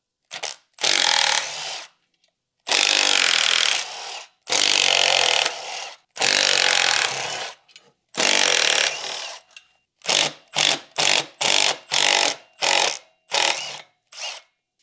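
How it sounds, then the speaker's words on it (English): A crowbar pries at the clutch and flywheel of an N43 engine, producing bursts of scraping and grinding metal, longer strokes first, then a quick series of short, sharp prying clunks. "I'll just use the crowbar."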